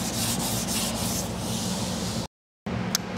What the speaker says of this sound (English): So now it's all hand sanding.